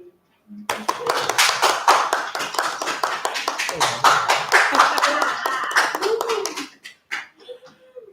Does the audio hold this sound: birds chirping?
no